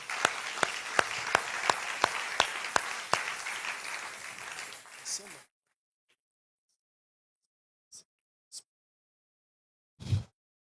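A congregation at an evening Bible study claps in a steady rhythmic beat for about five seconds, moderately loud, then falls silent apart from a few faint isolated knocks.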